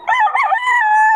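A rooster crows once, loud and close, with a wavering, stretched call among many birds at a gamefowl sale in Bocaue.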